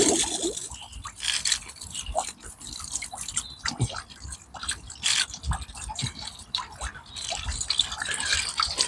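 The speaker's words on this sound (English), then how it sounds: "pump is in the water, it recognizes there's water in it, and instantly, because the sun is shining on the solar panel, it is instantly started working" A solar-powered pond fountain pump starts up underwater in a garden pond, giving irregular splashing, dripping and gurgling water bursts close by with no speech.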